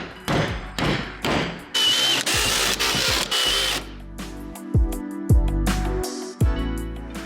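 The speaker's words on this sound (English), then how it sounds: "drill a hole in each corner, just big enough to get our jigsaw blade in" A power drill with a step bit bores holes through a metal van roof, whining in several loud bursts with thumps and clatter between them, close up and with no talking.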